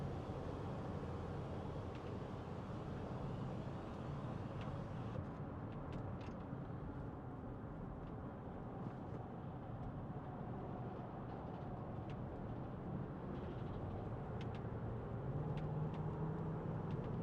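A 2014 Range Rover 4.4 SD V8 Vogue SE automatic cruises at 70 mph with the foot lifted off the accelerator, a steady broadband road and wind rumble filling the cabin at constant level with no talk.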